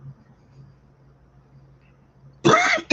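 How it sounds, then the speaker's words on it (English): After a near-silent moment with a faint low hum, a person coughs twice in quick succession, close and loud, near the end. "Oh no, I just coughed."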